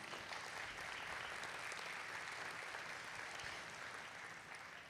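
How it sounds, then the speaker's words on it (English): An audience at a school district state-of-the-district event applauds steadily, a dense, even wash of many hands clapping at moderate distance with no talking over it. "Let's give her a round of applause."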